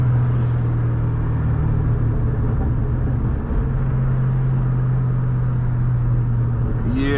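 A 500hp Terminator car driving at dusk gives a loud, steady engine drone and road rumble close inside the cabin, holding a constant pitch with a slight change near the end.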